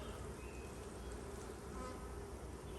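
Bees buzz around an open beehive, a dense continuous hum close by, steady and fairly quiet with no voices.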